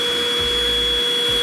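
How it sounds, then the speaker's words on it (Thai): A Deerma VC811 cordless vacuum cleaner running in standard suction mode, its motor giving a steady, fairly quiet whir with a steady low hum held close by, with no talking. "นี่เป็นเสียงระดับการดูดแบบมาตรฐานนะครับ"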